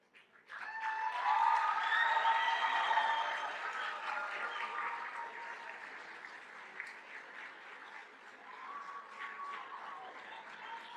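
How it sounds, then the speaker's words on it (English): Applause for honor roll and high honor roll scholars standing at a school ceremony, a full-room clapping that swells quickly, holds strong, then tapers to lighter clapping with scattered cheers and voices. "Give them another round of applause."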